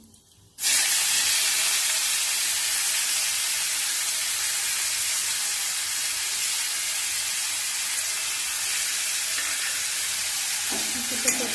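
Grated onion, tomato and a chili hit hot oil in a pan for a spicy bele fish curry, a loud, steady sizzle that jumps in suddenly and holds unbroken, with no talking.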